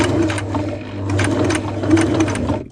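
Sewing machine stitching a repair on an Osprey Exos 58 backpack, following the original seam: a close, loud, continuous whirring run of stitches with slight pulsing changes in speed, heard alone.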